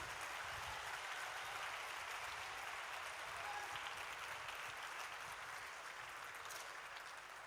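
Applause from a congregation at a united Protestant church service for Reformation Day, a broad steady clapping that fills the hall, sustained evenly at moderate distance with no voices over it.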